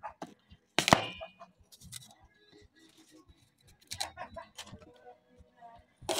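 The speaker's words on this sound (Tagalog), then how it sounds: "Sunod naman itong apple. Slicein lang natin into cubes." A knife slices an apple into cubes for a salad, giving a run of sharp, uneven chopping knocks on a cutting board, close and fairly loud, with short quiet gaps between bursts.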